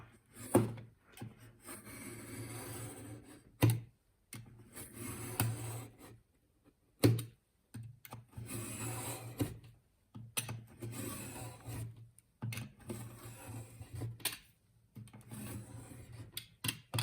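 Blade or knife cutting through a notebook cover along a ruler, a steady rasping rub in long strokes with brief pauses and a couple of sharp knocks, close and moderately quiet.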